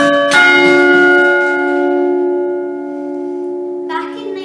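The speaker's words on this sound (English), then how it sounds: "This is the keyboard used to play the bells." Church bells in the bell tower of St Andrew's Parish Church, Dundee, are played from a keyboard: a loud struck bell rings and sustains with a long ringing decay, and another bell is struck near the end.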